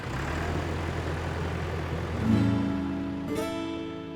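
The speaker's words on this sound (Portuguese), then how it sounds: "Foi com o ronco do trator." A steady low engine rumble with a deep, even drone, briefly swelling louder midway before settling into a sustained mechanical hum.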